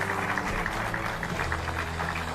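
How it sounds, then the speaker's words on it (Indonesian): Audience applause at an evening television taping honoring Ibu Sinta Nuriyah, a steady dense clapping wash filling the room without pause, with faint background voices underneath. "Kita tepuk tangan sekali lagi dong untuk Ibu Nur."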